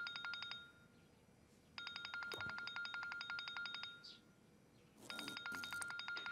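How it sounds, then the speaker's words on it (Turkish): A telephone rings indoors in repeated bursts of bright electronic trilling, three rings separated by short pauses, fairly clear and alone. "telefonun çalıyor"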